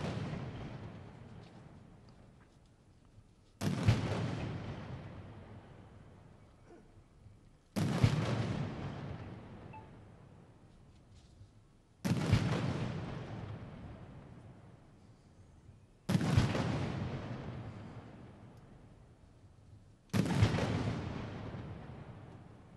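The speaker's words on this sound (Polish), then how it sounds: "Salwy są oddawane w 3-5-sekundowych odstępach." Ceremonial artillery salute fired with blank smoke-flash-bang rounds at a Polish Armed Forces Day parade on Piłsudski Square in Warsaw: five loud booming volleys about four seconds apart, each with a long rumbling decay, and no talking.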